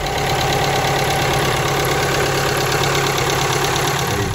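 A Jeep Renegade's diesel engine rumbles at idle, close and loud, with a continuous, slightly knocking drone that holds steady throughout with no voices over it.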